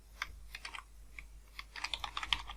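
Quick, light keystrokes of VBA code typed on a computer keyboard come in irregular bursts, faint and close, picking up into a denser flurry toward the end.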